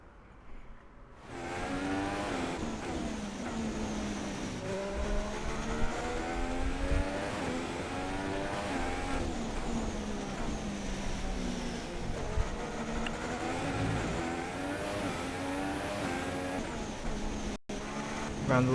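F1 car engine from the F1 2016 game driven as a Ferrari on a flying lap at the United States Grand Prix, a loud continuous high-revving whine with rising and falling gear shifts throughout, briefly cutting out near the end.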